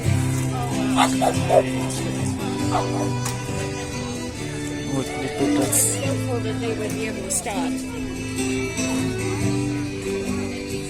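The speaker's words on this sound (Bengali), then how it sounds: "সুন্দর একটা কুকুর।" A dog at an outdoor farmers market in Canmore, giving soft whimpering yips amid a busy crowd, with music playing and people talking nearby.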